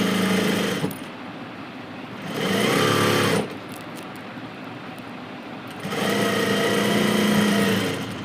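Electric sewing machine stitching cloth pieces for the back part of a garment, running in three loud sustained bursts separated by quieter pauses of handling fabric.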